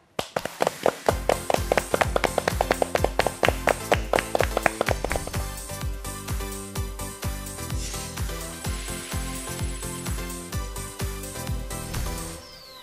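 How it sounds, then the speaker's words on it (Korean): An audience at a Korean real estate broker exam lecture welcomes a professor with loud clapping, crisp rhythmic claps at first that give way to denser, steadier clapping before fading. "박수로 맞아주세요."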